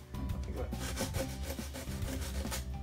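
Close, rhythmic scraping strokes of sandpaper rubbing dried paint drips off a wooden cabinet, repeated back and forth at a steady pace with no voices.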